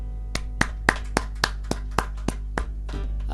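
Hand claps in a church at a year-end prayer service, about ten sharp, evenly spaced claps in a steady rhythm, then a looser patter at the end, over a low hum.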